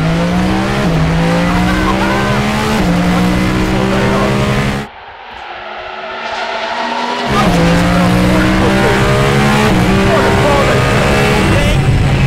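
A very loud race car drives hard on a track, its engine note rising through gears with sharp shifts, dropping away briefly under braking before roaring back up, close and dominant throughout.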